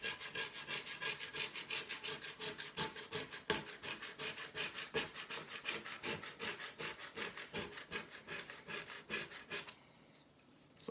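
Paint is scraped off a repainted skateboard in quick, rhythmic rasping strokes, steady and close for around ten seconds before stopping, fairly quiet overall.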